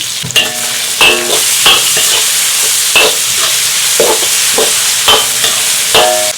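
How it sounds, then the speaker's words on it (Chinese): Scallion, ginger and garlic crackle loudly in hot oil in a wok, with a steady sizzle broken by repeated sharp spatula scrapes and clanks as the aromatics are tossed. "再次加油，葱姜蒜爆香"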